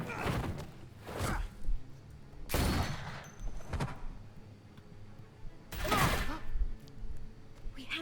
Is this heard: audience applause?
no